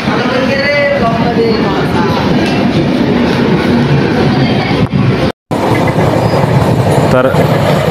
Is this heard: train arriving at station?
yes